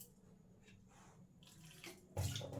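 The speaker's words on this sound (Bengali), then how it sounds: "আর একটুখানি জল দেব।" Water is poured into a mixer jar holding a chicken mughlai paste, a faint trickle that swells into a louder splash near the end.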